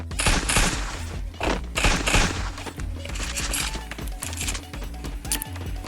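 Rapid bursts of M500 gunfire in the mobile battle royale game Free Fire, loud and close, shots crackling in quick clusters with short gaps between volleys.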